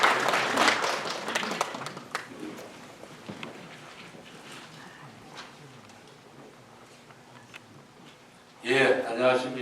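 Applause from the audience at a Gyeryong city residents' briefing hall, heard as a soft, scattered clatter of hands that fades to quiet, then a louder burst of clapping near the end.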